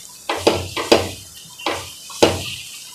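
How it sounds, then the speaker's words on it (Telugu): Wheat flour halwa stirred in a pan over a low flame, a utensil scraping and sloshing through the thick mixture in repeated strokes, each one a short, close scrape with a faint sizzle between. "అప్పటి వరకు ఇది ఇట్లానే సిమ్లో పెట్టి కలుపుతూ ఉండాలి"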